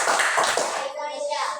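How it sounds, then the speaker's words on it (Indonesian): A short burst of clapping from a school class, fading quickly as a voice speaks. "kita beri tepuk tangan untuk kelompok 3."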